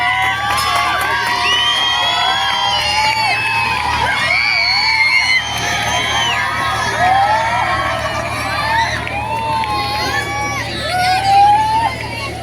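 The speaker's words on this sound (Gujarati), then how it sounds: "જોરદાર તાળીઓથી આપણે તમામ વિદ્યાર્થી મિત્ર અને શિક્ષકોને પણ જોરદાર તાળીઓથી" Students and teachers at a school fair make a loud, continuous crowd roar of cheering, whoops and excited children's shouts, sustained and close throughout.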